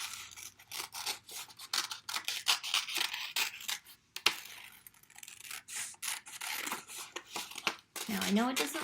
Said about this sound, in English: you'll take your scissors and you'll cut out the shape of your hand